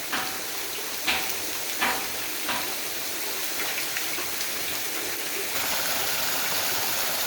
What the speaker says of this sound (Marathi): आगाशीच्या लेण्या आणि त्याच्यावरून कोसळणारे हे धबधबे आहेत